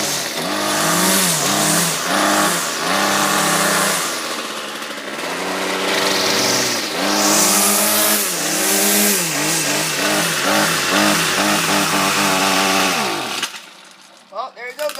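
A weed eater's small two-stroke engine runs loud and close after a difficult cold start, revving up and down repeatedly with a buzzing whine before cutting out near the end.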